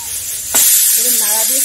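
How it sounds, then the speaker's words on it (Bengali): A pressure cooker on a kitchen stove lets out a sudden sharp hiss of escaping steam that holds steady and loud, with a faint tonal whistle rising beneath it. "তো দেখো কুকারে সিটি পড়বে"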